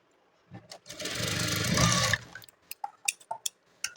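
A sewing machine stitches a blouse in a short, dense burst of whirring stitches lasting about a second and a half, close by, followed by scattered clicks and taps of handling the fabric.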